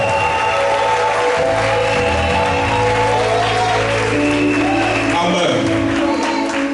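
Church congregation at a French-language Sunday worship service breaking into sustained loud applause, dense clapping with some shouts and voices mixed in throughout.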